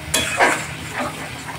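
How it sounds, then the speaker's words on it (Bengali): Spice paste with oil and turmeric is stirred in a hot pan for a fish curry, a couple of sharp close scrapes and clinks over a soft background hiss, brief and fairly loud. "এবার মশলাটা কষবো।"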